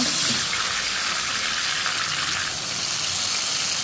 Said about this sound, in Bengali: এখানে আমি একটু পানি অ্যাড করে দিব।